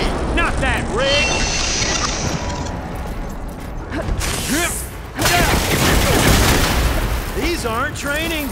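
Rapid, dense gunfire rattles almost nonstop in Horizon Forbidden West on PS5, mixed with mechanical clanks, creaks and swooping game effects. A brief lull near the middle gives way to another loud stretch.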